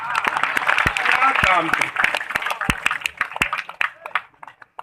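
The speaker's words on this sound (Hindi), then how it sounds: "ये हुआ कचरा ताली, बजाना ही है तो पूरा बजाइए" Audience members at a Hindu religious discourse clap in scattered, uneven bursts, sharp individual claps over a murmur of voices, with someone speaking briefly and the clapping thinning out toward the end.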